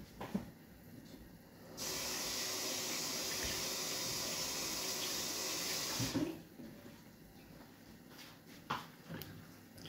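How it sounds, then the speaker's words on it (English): A pineapple is rinsed under a running tap in a sink, a steady broadband rush of water lasting about four seconds, preceded and followed by quieter handling and soft knocks. "With a sink, give it a wash."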